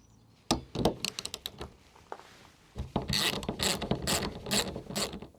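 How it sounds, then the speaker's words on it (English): A 13mm socket ratchet loosens the nut on a Vauxhall Corsa D rear wiper arm, with close bursts of rapid clicking from the pawl and then longer runs of quick ratcheting strokes. "to remove it, we need a 13mm socket"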